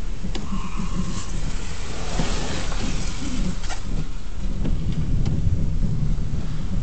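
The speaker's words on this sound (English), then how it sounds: "There's some thunder." Thunder rumbling during a tornado-warned storm in Raleigh, a steady low roar with broadband wash and a few sharp cracks, loud and continuous with no talk.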